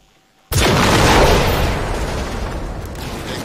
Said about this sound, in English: That is one massive explosion